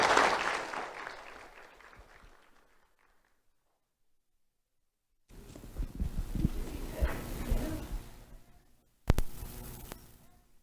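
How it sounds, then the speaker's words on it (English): A crowd at a sheriff's office awards ceremony claps loudly, then the applause trails off into silence; after a pause, shuffling and movement noise follows. "Let's have a round of applause for Caden Hughes."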